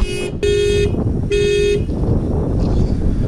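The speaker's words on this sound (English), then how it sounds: "This guy's car alarm keeps going off" A car alarm at a diesel truck expo outdoors gives two loud, steady horn-like blasts, each about half a second, separated by a short gap, over a constant crowd and engine rumble.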